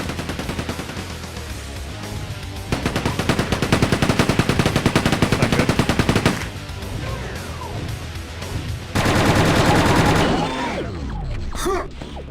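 An enemy tank in Quake 2 fires loud rapid bursts of machine-gun-like gunfire in several long volleys, close and harsh, with pauses and other combat noise between bursts.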